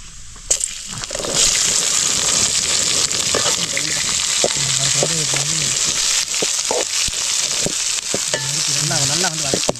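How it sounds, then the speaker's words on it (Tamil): Finely chopped onions hit a hot pan and sizzle steadily, with intermittent stirring scrapes and clinks over the continuous frying hiss, close and fairly loud. "பொடி பொடியாக நறுக்கின வெங்காயத்தை வந்து உள்ளே கொட்டிக்கலாம்."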